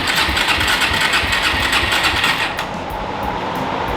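A Kawasaki KFX400 ATV engine runs at a fast, rough idle close by, a dense buzzing clatter that drops slightly in level near the end, with no talking.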